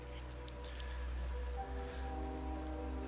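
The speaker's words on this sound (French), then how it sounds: "la pluie n'aide pas" Steady rain falls on a crowded city street on a busy morning, a continuous even patter with a low rumble of traffic underneath, no voices.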